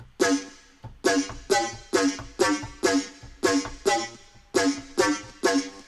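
A bright synth lead plays a repeating melody of punchy plucked notes, about two per second, each decaying quickly in a steady driving rhythm.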